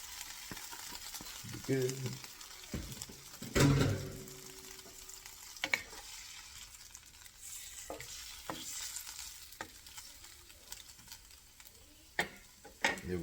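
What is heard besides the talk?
marinated pork frying in pan for adobo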